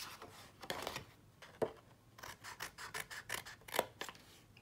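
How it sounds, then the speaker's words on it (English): Scissors cutting into paper for a tall trinket box craft, giving soft, close rasping snips in irregular bursts with a few sharper clicks, alone and fairly quiet. "So you can see how I just cut in a little bit there."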